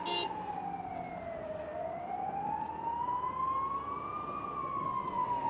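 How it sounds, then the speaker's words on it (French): Ambulance sirens wail through wartime Baghdad, one loud, near siren sweeping slowly up and down in pitch over steady city background noise. "La ville grouille d'ambulances."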